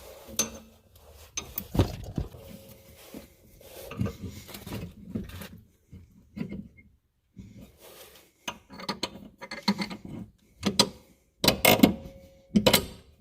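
A bolt is fitted back into a car's coilover suspension, with irregular metallic clanks, taps and short ratcheting rattles close by, separated by brief quiet gaps.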